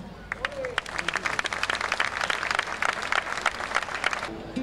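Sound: audience applauding flamenco singer

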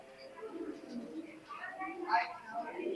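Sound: teddy pigeon cooing

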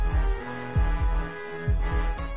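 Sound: heartbeat quickening in Death Park horror video game

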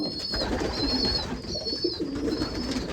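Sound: pigeons cooing in an aviary

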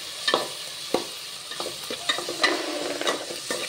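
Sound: tomatoes with salt frying and stirred in a pan

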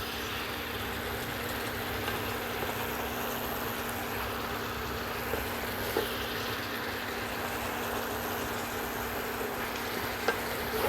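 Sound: chicken and vegetables cooking in their own released water

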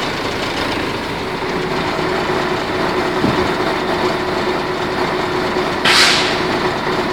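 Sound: Mercedes-Benz 1519 truck engine running power take-off to tip trailer

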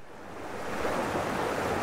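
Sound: forest stream flowing with strong current

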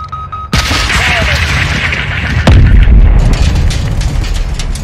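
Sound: missile explosion in the video game Call of Duty: Modern Warfare 2

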